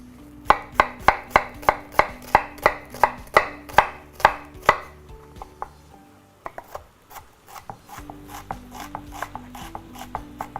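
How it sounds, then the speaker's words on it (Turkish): A knife chops an onion rhythmically on a cutting board, about a dozen evenly spaced sharp strikes, then quicker, softer chopping continues after a brief pause. "Ee, soğanımı doğrayayım"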